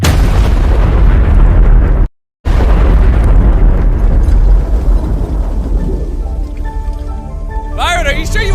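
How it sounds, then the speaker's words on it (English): Pyrotechnicians set off a re-rigged bomb made from spare fuel. It bursts with a loud, close roar that cuts out briefly, then rumbles and slowly fades, and raised voices come in near the end. "Using our last bit of spare fuel, the pyrotechnics quickly re-rigged the bomb."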